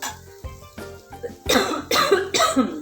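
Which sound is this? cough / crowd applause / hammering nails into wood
cough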